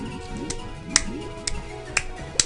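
A block switch in the video game Super Mario 64 Star Road clicks sharply and evenly, about twice a second, over faint background game music.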